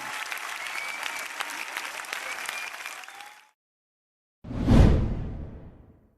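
Applause from a crowd of more than 4,000 spectators at a summer concert in Sicily, a steady wash of clapping that cuts off abruptly, followed after a pause by a loud swooshing transition sound.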